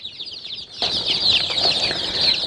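Many feather-footed chicks of Sultan and hawk breeds cheep nearby in a constant high-pitched chorus, which swells louder partway through.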